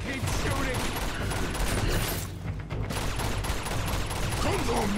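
Sustained gunfire in Uncharted 2: Among Thieves, a dense and constant wash of rapid shots and combat noise that dips briefly in the middle, with voices talking over it.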